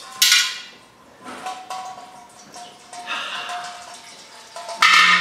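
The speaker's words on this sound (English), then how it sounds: "The next thing we need to do is remove the oil pan drain bolt here." Metallic clinks and taps from a 13mm oil pan drain bolt being loosened on a Mercedes-Benz GLA, a few sharp close ticks and scrapes spread out with quiet gaps, no talking.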